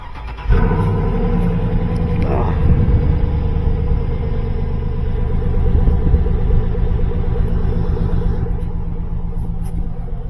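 A rusty Cadillac Escalade EXT with a 6.0 engine runs with a steady, deep idle rumble that swells briefly early on, then settles into a constant close throb with no talking.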